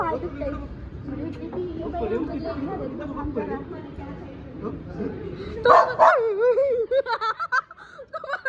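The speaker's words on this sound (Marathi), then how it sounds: "बघून भुंकला तो" A dog barks a few times near the end, sharp and close, after a stretch of people chattering and laughing.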